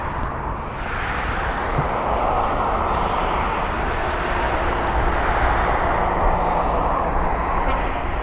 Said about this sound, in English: There's the Swiss A220.